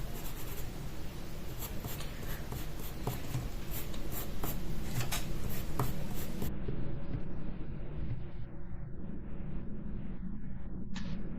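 Pencil drawing the tail of a koi fish on paper, a steady scratchy scribble with short strokes, close and continuous, with a quieter stretch near the end.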